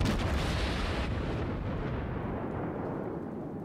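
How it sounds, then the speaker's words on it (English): A loud naval gun salvo from a warship in World of Warships booms at the start, then its rumbling roar slowly decays and fades over the next few seconds. "George, are you firing AP?"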